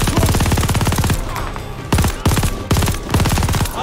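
Rapid automatic gunfire in Call of Duty: Vanguard, loud and close, with sustained bursts broken by short pauses and single heavy shots.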